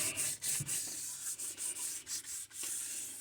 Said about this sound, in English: I don't put any pressure on the sandpaper because it's a 600 grit